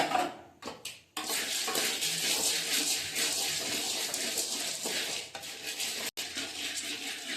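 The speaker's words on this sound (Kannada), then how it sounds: "ಸ್ವಲ್ಪ ಕಡಲೆ ಬಿಸಿ ಮಾಡ್ಕೊಳ್ಳೋಣ" Peanuts are heated and stirred in a pan, producing continuous scraping and rattling of the spatula against metal with faint sizzling, close and alone after a few opening clatters.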